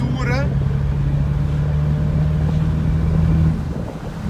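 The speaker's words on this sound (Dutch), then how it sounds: "En dan geef je gas van 1800 toeren" A Ferrari Portofino held in seventh gear in manual mode pulls from 1800 rpm, giving a deep, steady engine drone heard from inside the cabin. It swells gently for about three seconds, then eases off, with a brief voice near the start.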